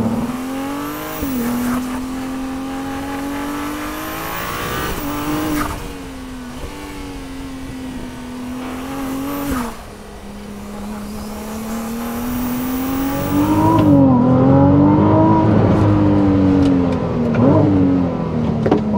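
A Ferrari 296 GTB supercar with a three-into-one exhaust manifold revs and accelerates, its loud engine note climbing and dropping through repeated gear changes, then swelling to a fuller, rougher roar toward the end.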